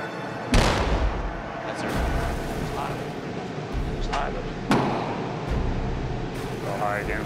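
A naval gun firing from a stealth warship at sea, two heavy booms a few seconds apart over constant wind and engine rumble, with voices talking underneath.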